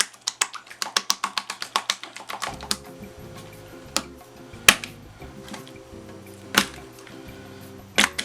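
A rapid run of light clicking taps, then slower, sparser sharp taps of a long fingernail on a table, close and fairly quiet.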